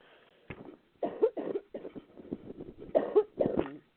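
Several short, rough coughs and throat-clearing bursts come in uneven clusters, close and moderately loud, separated by brief pauses.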